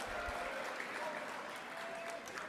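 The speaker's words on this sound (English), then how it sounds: "You can cheer." Audience applause at an awards ceremony, steady sustained clapping from a large room filling the moment without breaks.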